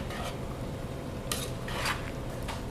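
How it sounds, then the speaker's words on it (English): A spoon scrapes through buffalo stew in a pot. There are several short metallic rasps and clinks at irregular intervals over a quiet kitchen background. "And we'll kind of just stir that in"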